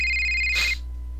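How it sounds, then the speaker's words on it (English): Cell phone ringtone in the video game HetaOni, a short electronic ring that chimes briefly over a steady low hum and then cuts off. "it's your cell phone"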